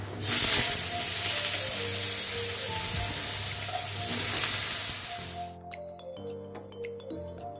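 Potato and eggplant pieces hit hot oil seasoned with dried chili and cumin, a loud, steady crackling sizzle close by that drops off suddenly near the end, leaving quieter scattered pops.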